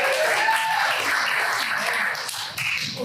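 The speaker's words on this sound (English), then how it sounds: "Let's give him a round of applause." An audience claps and cheers at a live comedy show, a dense burst of applause filling the whole stretch at steady volume.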